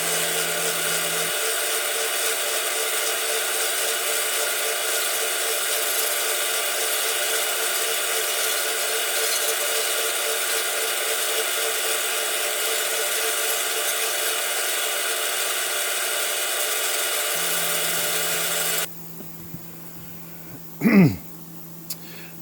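A skim cut being machined on a Clausing 8540 support bracket, a loud steady whine and hum of the machine running for most of the time, then a sudden cutoff to quiet with a brief clunk near the end.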